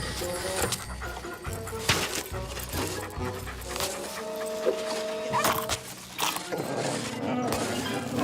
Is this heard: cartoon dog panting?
yes